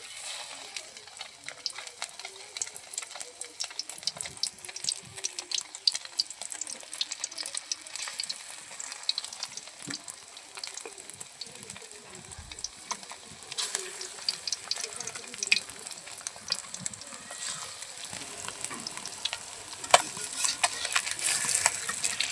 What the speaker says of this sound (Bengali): তেল গরম হয়ে গেছে, বড়াগুলো দিয়ে দিচ্ছি।